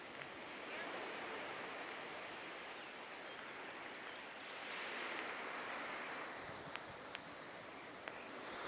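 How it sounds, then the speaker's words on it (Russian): Steady rain falls in a pine forest at Pitsunda in May, a soft continuous hiss that holds even throughout with no voices. "Дождь пошел."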